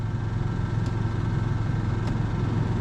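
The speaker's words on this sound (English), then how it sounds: "We'll put it on cold. And that actually revs less," Caravan generator running steadily at a low hum with the air conditioning set to cold, a constant near drone with no talk.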